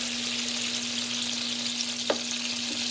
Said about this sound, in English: by browning it on multiple sides, you're definitely going to get a little of that flavor change